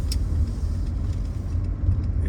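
A 1977 Mercedes-Benz 6.9 cruising on a highway, its engine and road noise a steady low rumble heard from inside the car, with no talk.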